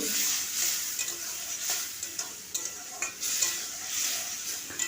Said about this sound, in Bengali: এরপর একটু জিরা গুঁড়ো দিয়ে দিলাম ধনে গুঁড়ো দিয়ে দিলাম আর একটু জল দিয়ে ভালো করে আমি ডালটাকে কষিয়ে নেব